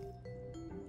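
Water poured into a bowl in Bakery Simulator, a short soft liquid trickle with small drips and squishy splashes, quiet and close, with no talk over it.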